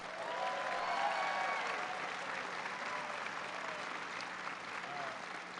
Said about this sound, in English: give him a big round of applause for that introduction